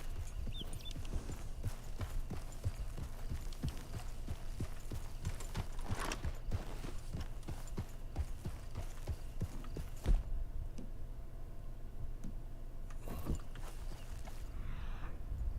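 A horse's hooves clip-clop steadily in Red Dead Redemption II, an even walking rhythm close by over a low ambient hum, with a sharper knock near the middle and no talk.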